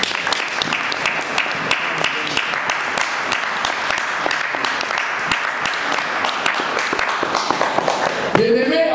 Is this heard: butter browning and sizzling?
no